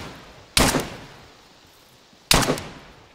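Two loud, close gunshots from the video game DayZ, spaced well apart, each a sharp blast with a short decaying tail and near silence between.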